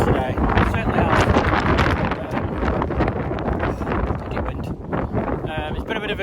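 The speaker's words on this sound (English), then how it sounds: "Wind." Loud, continuous wind buffeting the microphone on a fell hike near Haystacks and Innominate Tarn in the Lake District, roaring steadily throughout with gusty surges.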